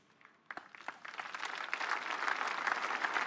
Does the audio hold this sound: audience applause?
yes